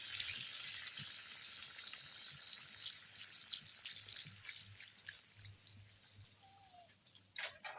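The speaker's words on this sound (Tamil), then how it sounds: "இந்த அளவுக்கு தண்ணி சேர்த்திருக்கிறோம்" Water trickles and splashes into a pan of chicken chilli fry, a soft, quiet pouring with small drips and faint sizzling, close by and alone.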